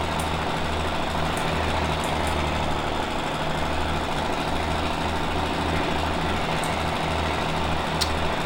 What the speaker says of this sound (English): the tractor I actually got from one of my friends, so yeah, I don't know where he got it from, but I think he modified the sound in it